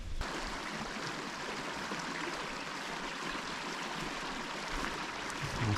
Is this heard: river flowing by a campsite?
yes